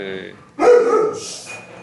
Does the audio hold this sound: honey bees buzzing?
no